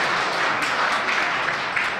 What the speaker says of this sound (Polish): Bardzo proszę nie klaskać.